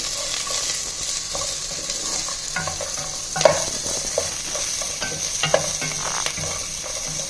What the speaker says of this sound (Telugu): ఇది కొద్దిగా పచ్చివాసన పోయే వరకు వేయించుకోవాలి